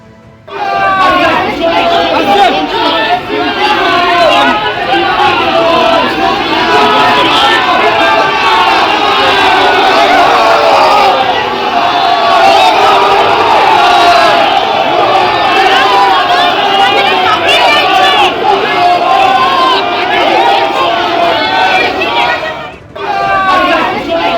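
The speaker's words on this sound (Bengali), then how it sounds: "আদালত থেকে বেরোনোর সময় মমতা বন্দ্যোপাধ্যায়কে ঘিরে উত্তেজনা তৈরি হয়, চোর চোর স্লোগান দেওয়া হয়" A large agitated crowd outside the High Court chants and shouts in rhythmic waves, dense and loud, continuing for a long stretch before briefly dropping and rising again.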